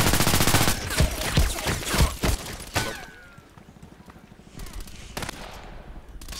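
Rapid assault rifle bursts from the first-person shooter Contract Wars, a dense volley of close, loud shots in the first few seconds, then scattered single reports over quieter ambient game noise.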